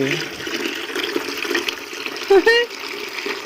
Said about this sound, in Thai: เอาคู่ถังมา ใส่น้ำเข้าไป ให้เต็มเลย